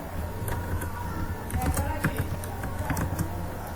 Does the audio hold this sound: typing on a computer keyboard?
yes